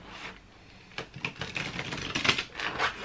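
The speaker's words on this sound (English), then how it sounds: "These giant cards are a little bit stiff still, so I've got to get some shuffling done" Stiff, oversized cards being shuffled in a quiet room, giving a run of crisp riffling snaps and flutters that grow busier toward the end, with no voice present.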